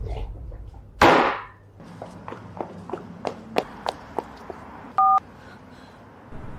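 A phone number is dialed: a run of light, evenly spaced key taps is followed by one short, clear dialing tone, after a louder burst of sound at the start.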